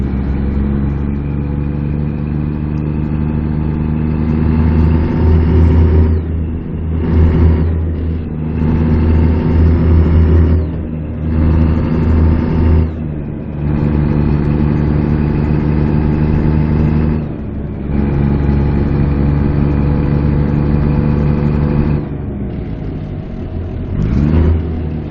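A truck engine in American Truck Simulator revs up and drops back repeatedly, loud and close, with rising whines as the truck works through gears and settles toward idle between pulls.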